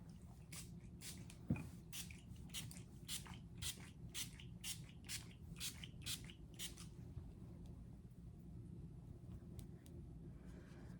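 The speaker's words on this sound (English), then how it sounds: "That was a pretty intense spray, not gonna lie." A burst of short, rapid hissing sprays from a can of L'Oreal Infallible Pro Spray and Set setting spray, close up, fading into quiet after several seconds.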